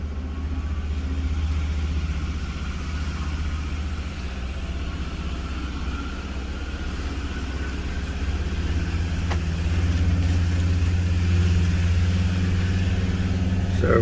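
A 1971 Jaguar XJ6 Series I with the 4.2-litre engine climbs a slippery hill in first gear, its steady low engine drone rising a little in the last few seconds, close and continuous with no talking.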